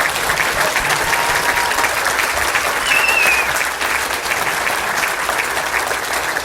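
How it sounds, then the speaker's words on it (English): A crowd at an evening tech presentation gives Captain Canada a big round of applause, loud continuous clapping lasting the whole stretch with a brief whistle partway through. "So can we give Captain Canada a big round of applause, please?"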